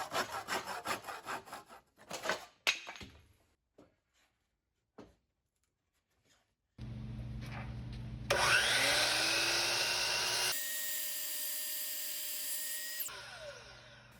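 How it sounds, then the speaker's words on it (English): A handsaw rasps through a wooden shelf board in quick back-and-forth strokes, then goes quiet before a loud, steady machine drone takes over. "I had to finish it off with a handsaw"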